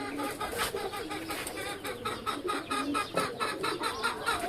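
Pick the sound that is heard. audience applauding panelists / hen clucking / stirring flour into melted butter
hen clucking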